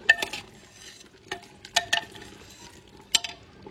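Spiced country chicken curry being stirred in a pan, scattered sharp scrapes and clinks of a spoon against metal over a faint sizzle, with quiet gaps between bursts.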